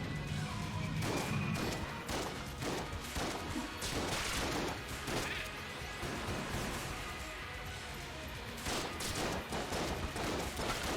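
Rapid shotgun blasts from the Enter the Gungeon video game crack out in repeated bursts, a dense volley of sharp, fairly quiet shots with short gaps between them and no voices.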